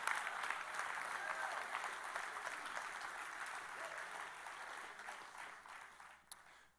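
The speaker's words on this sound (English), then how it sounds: "Go ahead and clap for the Lord one more time if you believe it." A church congregation claps steadily and fairly loudly for several seconds, a dense sustained applause that tapers off at the end.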